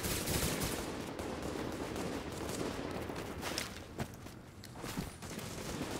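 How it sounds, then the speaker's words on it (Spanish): Gunfire in the video game The Division: a steady wash of shooting noise with several sharper shots cracking through near the end, fairly loud throughout with no talk over it. "He escuchado tiros."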